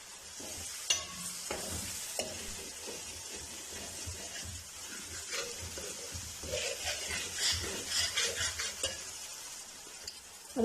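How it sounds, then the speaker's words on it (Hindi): Ginger-garlic paste sizzles and spits in a hot pan while a spoon stirs and scrapes through it in irregular strokes, close and fairly quiet, with no talking. "एक मिनट के लिए अदरक लहसुन के पेस्ट को भूनेंगे अच्छी सी"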